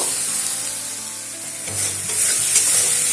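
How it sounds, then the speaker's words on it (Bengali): A spice paste of coriander leaves, green chillies and garlic sizzles steadily in a hot pan, a loud continuous hiss with a few soft stirring scrapes and no talk. "এটা একটু ভেজে নেব।"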